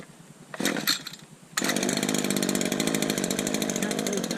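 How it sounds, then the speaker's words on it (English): A Red Max chainsaw is pull-started: a couple of short rope-pull bursts, then the engine catches and runs steadily and loudly at close range with a buzzing, even drone. "I don't understand why this Red Max, it takes so much longer to crank up."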